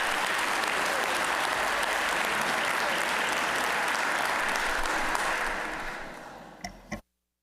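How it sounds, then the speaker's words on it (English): Sustained audience applause fills a state House legislative chamber during a session, a dense steady clapping that holds for about six seconds before tapering off and stopping abruptly. "Why don't you stand up so we can give you a round of applause?"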